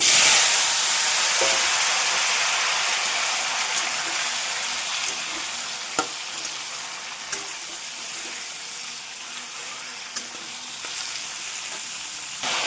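Vegetables fry in hot oil with whole cumin and nigella seeds, making a loud, continuous close-up sizzle that eases slightly over time, dotted with occasional small clicks and pops.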